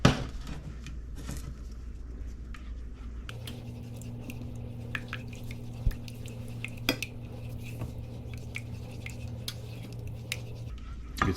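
Scrambled eggs with butter being stirred in a pan, a utensil scraping and clinking against the metal in soft irregular taps over a low steady hum, with no talk.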